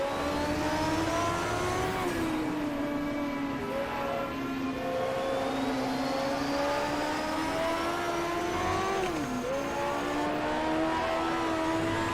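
Group 5 race car drifting through a corner exit in Automobilista, a loud continuous engine whine that rises and falls with throttle, dipping sharply near the end, steady and close throughout.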